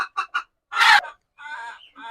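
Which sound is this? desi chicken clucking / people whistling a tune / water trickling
desi chicken clucking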